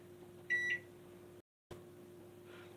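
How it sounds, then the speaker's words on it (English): A knob-operated microwave oven hums steadily while running, with a short electronic beep near the start and a brief dropout midway. "we're going to take him and throw him in the microwave"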